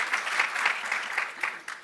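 Audience at a conference stage session clapping together, a brief dense burst of applause at moderate distance with a few stronger individual claps.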